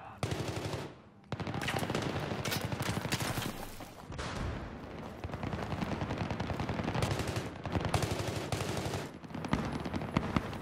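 Machine gun fire in a war video game, rapid sustained bursts of automatic gunfire with short pauses, loud and close, continuing for several seconds.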